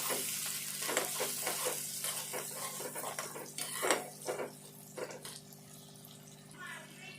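Boiled chickpeas with turmeric and fresh coriander frying in a pan, with soft sizzling under a run of stirring and scraping strokes that thin out toward the end.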